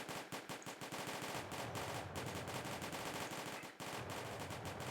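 Continuous crackling musket volleys from Napoleonic-era infantry in the strategy game Combat Directive: Napoleonic Wars, Lappo 1808 battle, dense rapid overlapping shots, loud and close, with a brief dip before firing resumes.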